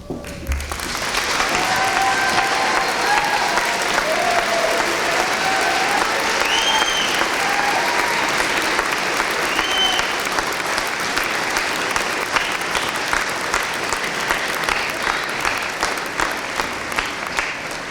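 A large audience at a National Honor Society and National Technical Honor Society induction ceremony gives sustained, dense applause that swells quickly and holds steady, with a few faint cheers mixed in.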